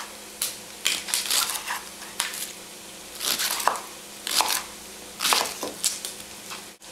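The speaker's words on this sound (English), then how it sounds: "just slice them up" A knife slicing cleaned leeks on a cutting board, giving a series of crisp, crunchy cuts in irregular bursts, close and moderately loud with no talking.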